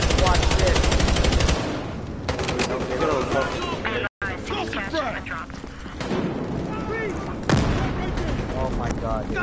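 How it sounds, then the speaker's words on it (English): Video game machine gun fire rattles in rapid, sustained bursts, loud and close, with people talking excitedly over it. "I'm about to shoot a whole clip in there."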